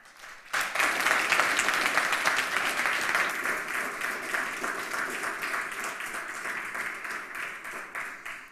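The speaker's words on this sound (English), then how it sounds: "please give her a round of applause" Conference audience at a hacker congress breaks into sustained applause, starting suddenly and holding steady as a dense wash of many hands clapping, with no talk over it.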